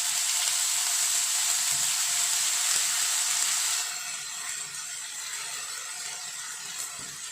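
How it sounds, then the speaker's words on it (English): Ginger garlic paste sizzles and fries in hot oil with spluttering cumin seeds, a loud steady hiss for the first half that drops to a softer, quieter sizzle for the rest, with no talking. "our jeera is started spluttering. So here I am going to add 1 tablespoon of ginger garlic paste"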